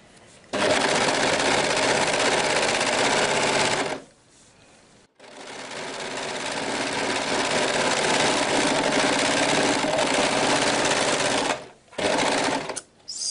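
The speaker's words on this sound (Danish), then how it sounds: "når jeg bruger overlockeren her i sådan et tyndt materiale" An overlocker runs stitching thin organza fabric at a 2 mm stitch length, a loud, fast mechanical whirr in two long bursts with a brief stop between and a short stutter near the end.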